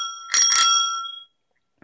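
An electric unicycle's bicycle-style signal bell rings with a quick double strike, its bright metallic tone lingering and fading, then a faint start of another ring at the end.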